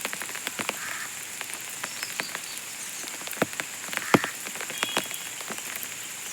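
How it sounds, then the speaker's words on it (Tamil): Rain falls at night in an old cemetery, a steady hiss broken by scattered drops and snaps, with frogs croaking close by and no talk. "மழை வேறு கொஞ்சம் ஜாஸ்தியாக பெய்யுது."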